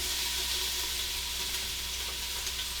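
Cumin seeds and chopped jalapeno sizzle in hot oil in a pan, a steady close hiss and crackle that runs unbroken throughout, for mashed Indian-spiced eggplant.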